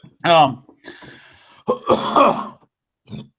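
A couple of short, harsh coughs and throat-clearing sounds, close and fairly loud, separated by brief silences.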